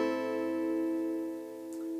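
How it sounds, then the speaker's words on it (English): A single acoustic guitar chord is strummed and left ringing, fretted at the fifth position as the opening of a song, sustaining steadily and clearly with no voice over it. "So if you were to just strum it, it would sound like this."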